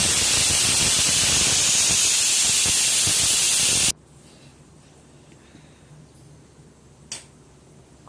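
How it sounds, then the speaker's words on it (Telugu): An older pressure cooker on the stove with mutton curry and tamarind leaves releases steam as a loud, continuous hiss for about four seconds. It then cuts off abruptly, leaving a quiet room with a single faint click. "కుక్కర్ ఆన్ చేసి విజిల్ పెట్టుకోవాలి"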